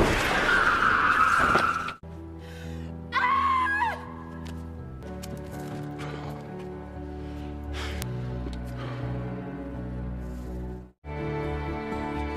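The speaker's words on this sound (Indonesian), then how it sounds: "si pembunuh bayaran ditabrak oleh sebuah mobil." A film scene where a car skids at an intersection and strikes a man: a sharp burst of noise, then a screeching tire squeal, followed by swelling orchestral music with further abrupt hits and cuts.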